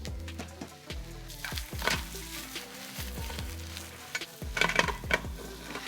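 Butter shoyu pasta with Japanese mushrooms tossed and stirred in a shallow sloped pan with a lip, a steady low sizzle broken by repeated scraping, clattering tosses close by, with no voices.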